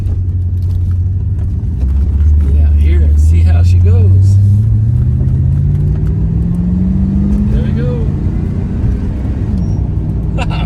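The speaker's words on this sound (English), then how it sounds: "I love the way the old rumble sounds so good." A deep, throaty engine of a 1988 Chevrolet Corvette 35th Anniversary rumbles and revs as it pulls away, loud and close, with someone talking over it.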